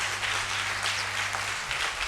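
A church congregation acclaiming and applauding the Lord during worship, a broad wash of continuous clapping and cheering voices over a low sustained hum.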